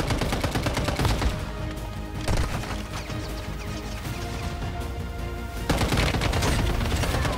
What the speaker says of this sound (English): I'm getting sniped at all the time